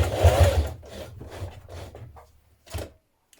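A sewing machine runs slowly to top-stitch thick webbing onto a backpack, giving a few close, rhythmic mechanical pulses that fade out, followed by one short final stitch.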